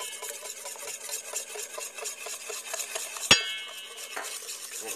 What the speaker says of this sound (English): I'm going to take my whisk, break up the yolks a little bit, and we're going to whisk in a third of a cup